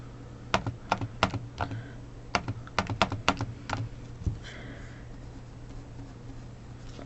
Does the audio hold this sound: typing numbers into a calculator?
yes